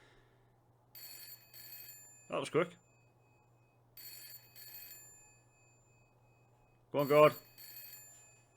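In the Broken Sword adventure game, a telephone rings in two short bursts, then rings again a few seconds later, with a low steady hum beneath and brief spoken lines between the rings.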